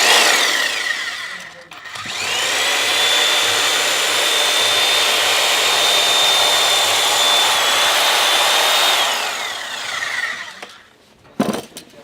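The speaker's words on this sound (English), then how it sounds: "and then you break out the big saws" Big power saws cut through old, rotted deck timber on the ship Elizabeth II, giving a loud, sustained whining roar for about eight seconds, with a shorter burst before it and a winding-down tail afterward.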